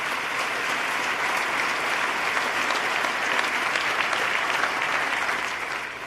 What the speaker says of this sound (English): let's give them a round of applause for their turnaround.